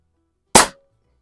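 A single sharp crack from a Pinty Striker .25 caliber bullpup air rifle, loud and close, decaying within about a quarter second against an otherwise silent background.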